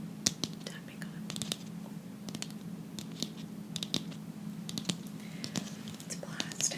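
Light fingertip taps and clicks on a plastic object bought from an art store, crisp and close, scattered irregularly under a soft whispering voice.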